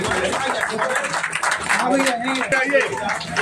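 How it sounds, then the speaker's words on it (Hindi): Crowd clapping at a political party gathering in Parsudih, a scattered, continuous patter of hands mixed with many voices talking and calling out nearby. "ताली हो जाए।"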